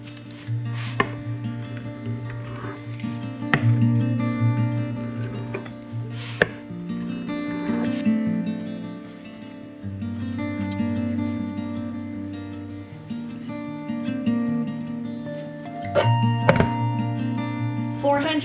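A blade cuts bread dough into eight pieces on a pizza pan, giving a string of dull, close thunks while music and a voice run underneath.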